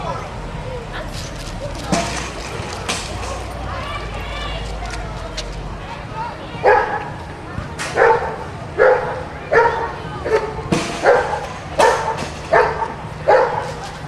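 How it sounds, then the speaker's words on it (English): Police K9 dog barking repeatedly in short loud bursts at a night-out public demonstration, with an officer's commands and crowd noise underneath. "Hey guys, stand still, listen to the dog."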